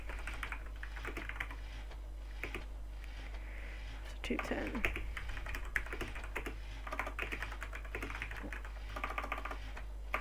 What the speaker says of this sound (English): Oh, my typing is great already